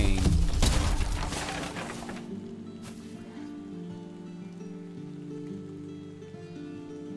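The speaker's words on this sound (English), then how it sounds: "Rain, rain, rain." Rain patters in Valheim, the video game, a dense hiss of drops that is loud at first, then eases into a softer steady shower under a low sustained tone.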